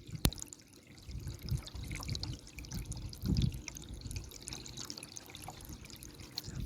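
Water runs from an electric motor pump at night, a soft continuous trickling flow with a low rumble and an occasional faint knock, without any talk.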